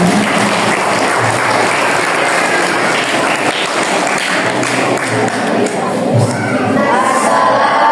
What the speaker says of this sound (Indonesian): Beri tepuk tangan yang mulia ya bunda.